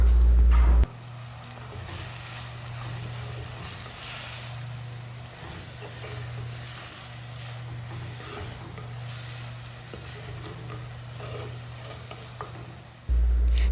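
Capsicum and tomato sautéing in a pan for a mushroom roast, a steady close sizzle of frying with stirring scrapes throughout, no talking, cut off by a brief louder burst at each end.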